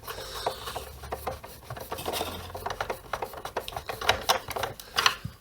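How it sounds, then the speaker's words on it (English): Screws are driven back into the housing of a Vax Power VX2 vacuum cleaner, producing close, small scraping and clicking sounds in irregular bursts, fairly quiet and with no talking. "So we'll pop the screws back in."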